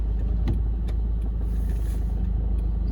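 A car engine warms up during a snowstorm in New Jersey on a cold day, a close, steady low rumble with small irregular knocks over it.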